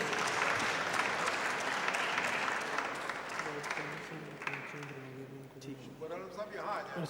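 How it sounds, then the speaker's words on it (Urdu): Audience applause at a youth society event, dense clapping that starts full and gradually thins while a speaker's amplified voice comes in over the fading claps. "آپ کی بھرپور تالیوں میں"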